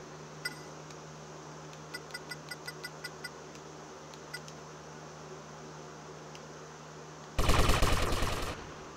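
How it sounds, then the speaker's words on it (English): Gunfire in GTA Vice City Stories: faint, evenly spaced clicking shots tick along over a low background hum, then a loud close burst of rapid fire erupts near the end and quickly fades. "I'm still getting shot at"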